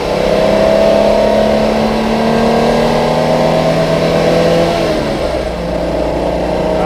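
A 1954 Lancia Aurelia B20 GT engine drones loudly and steadily, then its pitch drops as it downshifts and settles into a lower, rumbling note. It is close.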